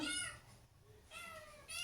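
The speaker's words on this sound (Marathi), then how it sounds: "त्या मांजरांची गडबड काही वेगळीच असते नुसतं भूक लागली की क्याव क्याव क्याव क्याव करत असतात" Faint, drawn-out cat meows, one at the start and two more near the end, with a brief quiet gap between.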